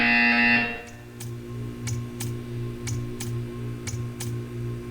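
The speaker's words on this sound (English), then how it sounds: "You will hear a buzzer. When you hear the buzzer, stare at the art." A buzzer in the Portal 2 video game, a loud tone lasting about half a second at the start, followed by a steady low hum and a series of regular faint ticks.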